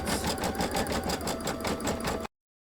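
An embroidery machine stitches a design onto patriotic pinwheel quilt blocks with a steady, rapid mechanical chatter up close, running alone before cutting off abruptly.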